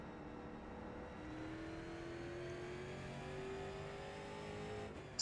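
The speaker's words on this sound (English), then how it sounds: "Race cars coming in this lap." Street stock race cars in the iRacing video game drone steadily from an in-car view, one engine note rising slowly under acceleration for several seconds, with no talk over it.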